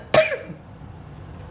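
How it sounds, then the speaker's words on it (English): A single sharp cough, close and abrupt, followed by near silence and a tiny click at the end. "I thought I finally was done coughing"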